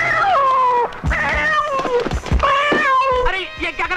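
A cat meowing loudly and repeatedly in a dramatic indoor film scene, with drawn-out, wavering cries that rise and fall and are mixed with voices.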